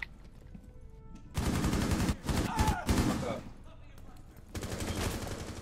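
Rapid bursts of automatic gunfire in Rainbow Six Siege, loud and close, arriving in two clusters separated by a brief lull.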